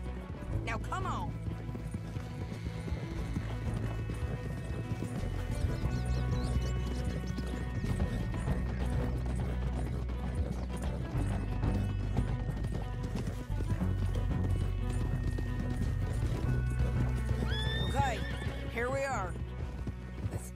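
Horses gallop with a steady clip-clop of hooves and neigh repeatedly in the Red Dead Redemption 2 video game, mixed with crashes and game sounds, and characters speak over it.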